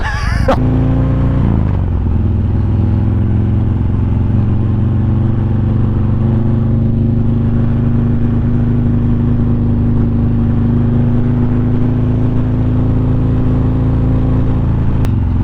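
A custom Harley-Davidson motorcycle named Zulu barks through a sharp throttle blip, then drones in a loud, steady, close engine rumble while being ridden, with no talk over it.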